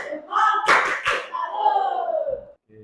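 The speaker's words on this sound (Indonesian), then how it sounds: "Tepuk salut." Schoolchildren in an Indonesian classroom perform a 'tepuk salut' clapping routine, with a few sharp, close claps set among chanting voices that carry the rhythm.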